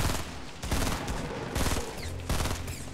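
Rapid gunshots in Fortnite Battle Royale, a few loud bursts of overlapping shots spaced about a second apart over a dense layer of game noise, close and punchy with no one talking.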